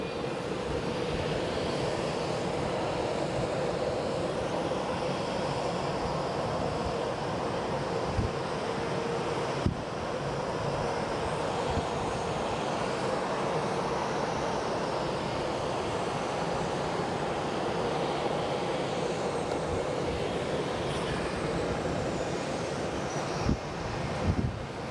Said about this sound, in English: 717 getting ready to depart. Just spooling up as we speak.